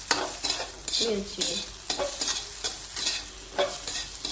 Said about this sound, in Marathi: 2 मिनिटं छान तुपात परतलं बघा।